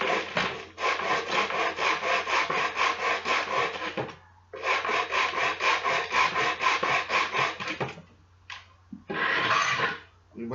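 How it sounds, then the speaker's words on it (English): Hand sanding of a hardened wood finish on a wooden chess and backgammon board: steady back-and-forth rasping strokes in close, loud bursts, pausing briefly around four and eight seconds, then resuming. "It's very hard to sand it now."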